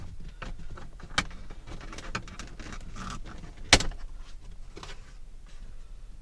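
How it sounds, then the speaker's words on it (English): Shifter boot being pulled out of a C5 Corvette interior, a series of scattered plastic and rubber clicks, rustles and knocks close by, with one sharp snap midway and no talk. "Go ahead and take this boot out."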